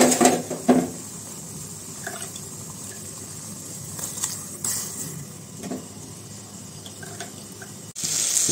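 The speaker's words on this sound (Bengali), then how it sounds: "ভাতের জল ফুটে গেছে, আমরা এখন চাল দিয়ে দিব।" Rice goes into a pot of boiling water with a few splashes and a rattling pour at the start, then a steady bubbling, watery hiss close by.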